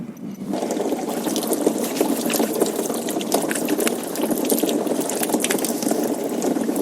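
Water gushes and splashes as it fills the tank of a hydraulically folding trailed field sprayer, a steady, loud pouring rush with bubbling and spattering, close by and continuous, no talk.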